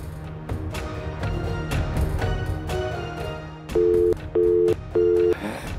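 A phone call to a number that is not active, heard as a blurred ringing and tone passage followed by three evenly spaced, loud, steady beeps with short gaps between them.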